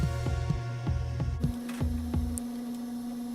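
A pottery wheel motor hums low and steady close by, with a regular soft throbbing pulse that shifts pitch partway through.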